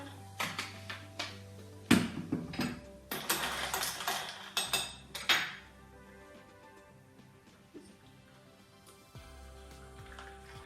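Soda water pours into a glass of ice and lemon cordial, with sharp clinks of ice against glass, then a fizzing, bubbling trickle that fades. Nearby and fairly quiet, with no talking.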